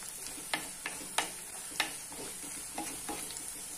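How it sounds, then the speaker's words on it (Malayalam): Onion and ginger sautéing in a pan for a Kerala-style mackerel curry made with ground fresh coconut: a continuous oily sizzle broken by several distinct scrapes and taps of a stirring spoon, close and alone. "ഈ ഉള്ളി ഇഞ്ചിയും കൂടി നന്നായിട്ടൊന്ന് വഴറ്റിയെടുക്കാം."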